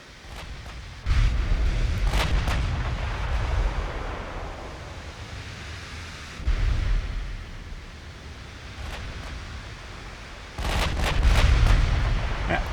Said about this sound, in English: All 4 guns firing like that.